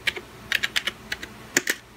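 Keys clatter on a computer keyboard as a command is typed for flashing a graphics card, a quick uneven run of crisp close clicks in small bursts with no talk.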